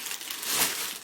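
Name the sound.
packaging being unwrapped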